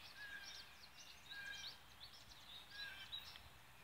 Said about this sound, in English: A lot of twittering.